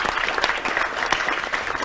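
Brief, brisk applause from a conference audience at a 2022 ESTC panel discussion, a close, dense patter of many hands clapping for about two seconds.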